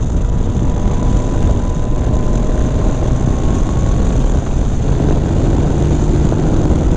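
A 2015 Yamaha FJ-09 motorcycle accelerates on a road test ride from around 45–50 mph up to 80, its engine a steady loud drone with rising tonal lines, heard close up against constant wind and road noise, with no talking.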